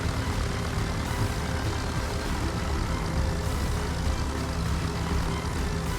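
Aircraft from an aircraft carrier in the World of Warships naval game, a steady dense engine drone holding at even loudness throughout.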